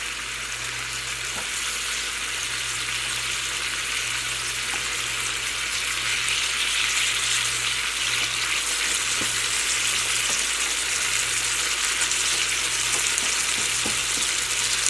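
Tomatoes cook in tamarind water in a pan for a chili chutney, giving a steady close sizzle and bubbling with occasional stirring clicks, alongside a low continuous hum.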